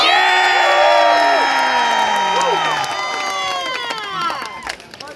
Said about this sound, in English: By that round of applause